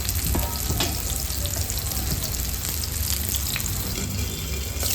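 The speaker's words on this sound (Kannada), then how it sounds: "ತವಾ ಫ್ರೈಗೆ ಜಾಸ್ತಿ ಎಣ್ಣೆ ಏನೂ ಬೇಕಾಗಲ್ಲ. ಫ್ರೈ ಮಾಡಿಕೊಂಡ್ರೆ ಆಯಿತು." Silver fish frying on a tawa over a low flame, a steady, close sizzle that holds evenly throughout with no speech.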